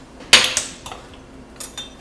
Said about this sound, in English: Mix that together in a bowl.